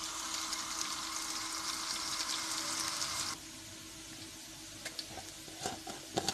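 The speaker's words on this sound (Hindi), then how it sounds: "हमारे प्याज जो है देखें ब्राउन हो गए हैं" Onions fry and turn brown in a pan for a restaurant-style mash daal, with a steady close sizzle that suddenly drops to a softer hiss broken by a few crackles and stirring knocks.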